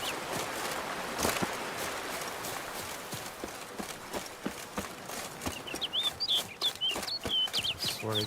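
A fowl in The Witcher 3 clucks in short, repeated bursts amid game ambience, with soft hoof-like clopping and scattered percussive thuds, the chirpy calls growing clearer toward the end.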